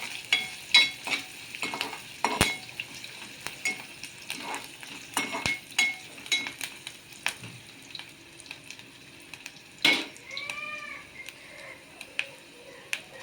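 Curry leaves crackle and spit in hot oil in a pan, with scattered pops and stirring knocks from a utensil under a steady sizzle, close and moderately loud.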